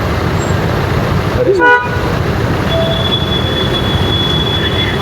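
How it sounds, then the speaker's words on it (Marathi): Dense city traffic at a signal in Chhatrapati Sambhajinagar, a loud, steady roar of engines with one short horn blast near the middle and faint tonal sounds afterward. "हे बघा हे ट्रॅफिक आणि छत्रपती संभाजीनगरचं ट्रॅफिक आहे"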